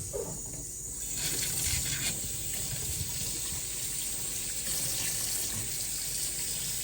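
Cold tap water runs steadily into a sink while makeup brushes are rinsed clean of soap, a continuous close splashing hiss with no talk.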